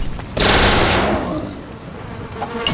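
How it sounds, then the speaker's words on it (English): A giant bee in a video game gives off a loud, dense buzzing drone that swells in abruptly, holds strong for about a second, then thins to a lower, fluttering hum. "Giant bee."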